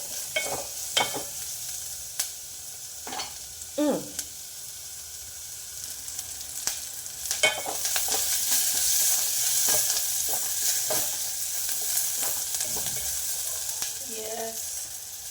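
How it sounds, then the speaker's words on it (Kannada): Onion and turmeric frying in oil while being stirred, a continuous sizzle broken by repeated scraping and clinking strokes of a spoon against the pan, close and fairly loud. "ಅರಿಶಿಣ ಎಣ್ಣೆಯಲ್ಲಿ ಚೆನ್ನಾಗಿ ಬಾಡಿಸ್ಕೋಬೇಕು"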